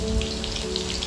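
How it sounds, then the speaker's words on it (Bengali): Chicken pakoras fry in hot oil with a steady, dense crackle and sizzle that stays constant and fairly loud throughout, with no voices. "এবার উল্টে পাল্টে হালকা লাল করে ভেজে দিচ্ছি।"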